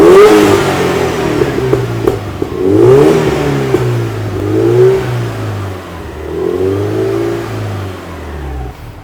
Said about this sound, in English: I'm just going to be giving it some revs